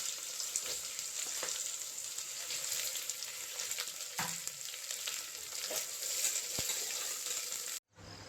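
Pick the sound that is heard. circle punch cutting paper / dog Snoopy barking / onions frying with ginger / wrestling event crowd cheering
onions frying with ginger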